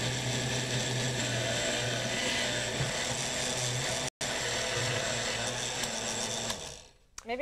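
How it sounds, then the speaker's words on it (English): Set to frappe mode, a quiet blender runs in one steady, grinding whir that breaks off briefly partway through, then winds down near the end, with a voice faintly underneath. "There we go, we'll just go to frappe mode."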